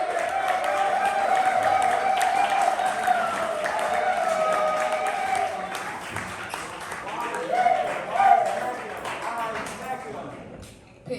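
Poetry slam crowd at the Atl Spring Fling applauds and cheers for a poet, steady clapping mixed with voices and a host talking over it, the noise swelling briefly before fading out.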